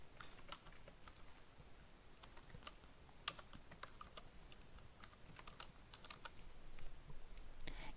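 Quiet, close computer keyboard typing as text goes into a vertical type tool, with irregular bursts of key clicks and a few sharper taps over faint background hiss.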